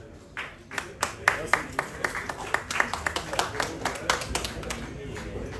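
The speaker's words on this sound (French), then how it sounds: "Je vous demande, s'il vous plaît, de leur accorder ces remerciements à travers vos applaudissements." A small audience at a presentation of a multifunction mowing and pruning machine claps together, a loose burst of close, crisp hand claps that builds and then thins out over several seconds.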